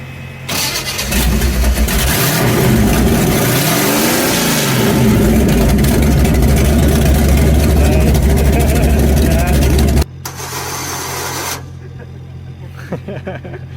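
A modified kei truck engine cranks and catches, then revs loudly and steadily up close for about ten seconds before dropping to a lower idle-like hum, with some talk faintly underneath.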